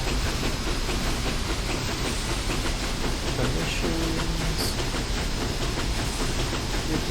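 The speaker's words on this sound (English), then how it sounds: "I turn the blower on" Steady loud broadband hiss and rumble of a steam locomotive blower running on a logging railroad in a video game, continuous and unbroken throughout with no talk.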